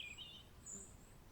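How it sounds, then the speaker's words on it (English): Birdsong in a garden that was once a bare sheep field, with high chirps and short whistled calls faint in the distance over a quiet background. "Here, I am serenaded by birdsong"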